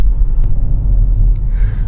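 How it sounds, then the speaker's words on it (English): Steady low tyre rumble from a Kia ProCeed at speed, a constant loud droning hum with faint ticks on top and no voices. "just a little bit of tyre rumble being able to be heard"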